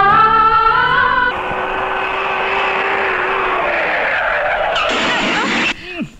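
A car skids loudly in a Hindi comedy film scene, with a long sustained tire squeal under engine roar that ends in an abrupt crash and clatter.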